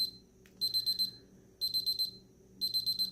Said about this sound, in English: so that's why it's beeping.